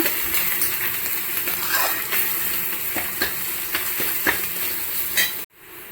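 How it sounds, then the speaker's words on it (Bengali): Spices and a little sugar are stirred into ghugni curry in a hot pan, a continuous close sizzle punctuated by repeated scraping clicks of a spoon before the sound cuts off abruptly near the end. "ভালো করে নাড়িয়ে চাড়িয়ে নিচ্ছি।"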